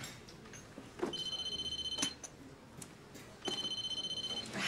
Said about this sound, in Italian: Cellulare.